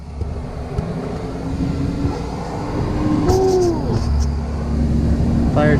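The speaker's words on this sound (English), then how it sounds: "Here comes the fire truck." A fire truck passes along a nearby street, giving a brief rising and falling horn or siren wail midway through, above steady traffic rumble and outdoor background noise.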